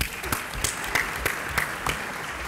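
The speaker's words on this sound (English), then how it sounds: "For that, I really want to applaud you." Conference audience at a panel session of the World Congress on Thyroid Cancer applauds, a continuous patter of claps from a hall full of people, moderately loud and steady.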